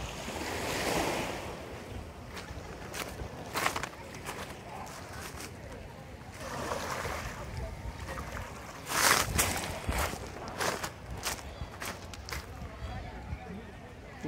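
Surf at Punta Mita beach, a round cove surrounded by large rock caves, rolls in and washes back in rising and falling surges, with wind noise and occasional sharp bursts and no talk.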